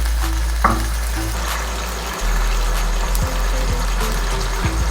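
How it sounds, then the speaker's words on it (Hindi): Chicken in yogurt sizzles steadily in a hot pan, frying until the yogurt's water dries off, a continuous crackling fry with a few soft clinks of stirring, close and fairly loud. "चिकन को अच्छी तरह से तब तक फ्राई करेंगे"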